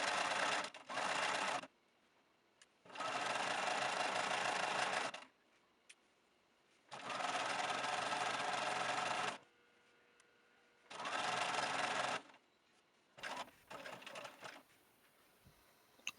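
A sewing machine stitches a sweater hem in four steady bursts of whirring, separated by short pauses, ending in a few faint clicks and handling sounds. No one speaks.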